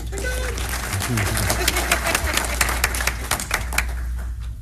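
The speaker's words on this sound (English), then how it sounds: "Oh, we got to clap, sorry." An audience at a school board meeting breaks into steady, moderately loud clapping that continues for several seconds, with a low hum and a voice speaking underneath.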